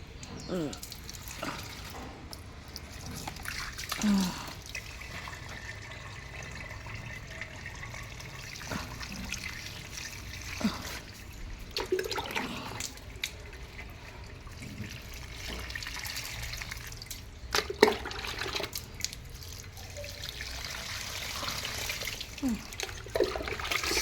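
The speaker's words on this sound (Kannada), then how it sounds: "ಹಾಗೆ ಸ್ವಲ್ಪ ಗಿಡಗಳಿಗೆ ನೀರು ಹಾಕಿ" Water running and splashing as plants are watered, an uneven flowing trickle with intermittent bursts, fairly close, with faint background noises.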